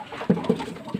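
Racing pigeons cooing at a homemade drinker, a few soft, low throaty coos close by in a quiet setting.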